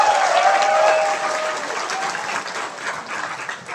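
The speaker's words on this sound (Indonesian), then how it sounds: "Tepuk tangan dulu." An audience at a national gathering of kiai drivers in Indonesia claps loudly and steadily, a dense round of applause that eases a little after the first second. A faint whistle or tone sounds near the start.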